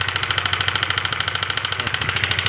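A Honda CBR 150 motorcycle engine with a loud rattling fault runs steadily and loudly close by, with a rapid rhythmic chugging pulse throughout and no voices.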